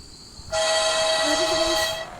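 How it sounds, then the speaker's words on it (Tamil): The monstrous spider-train of the horror video game Choo Choo Charles blasts its horn, a loud, sustained, chord-like whistle that starts abruptly after a quiet moment and holds for about one and a half seconds before easing off. "எங்கே இருக்குது சூச்சு ட்ரெயின்?"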